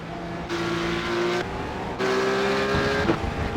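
A simulated race car engine in the iRacing video game drones steadily at moderate loudness. Its pitch shifts in steps as the car changes gear.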